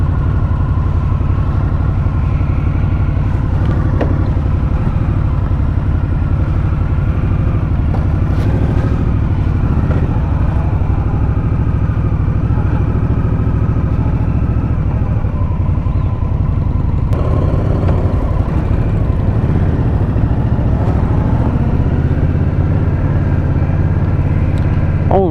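A 2022 Indian Scout Bobber motorcycle idles close by, its low engine rumble steady and continuous for the whole stretch with a slight shift in tone partway through, and no talk over it.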